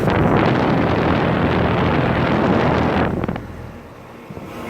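Steady broadband whooshing hum of a 2007 Goodman 2.5-ton heat pump outdoor unit with a damaged coil guard running close by, loud and continuous, then dropping off sharply near the end.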